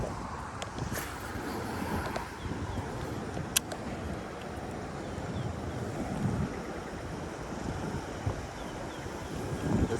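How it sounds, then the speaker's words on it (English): Strong wind buffets the microphone in a continuous rough rumble, with rushing gusts and a few sharp knocks. "it's pretty windy"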